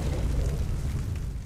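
A Dodo Rex breathing fire in the ARK video game, a loud, sustained roaring whoosh with a heavy low rumble, steady for the whole moment.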